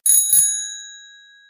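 A meditation bell is struck twice in quick succession, each clear metallic ring blooming then fading into a long, bright, sustained shimmer that decays slowly alone in silence.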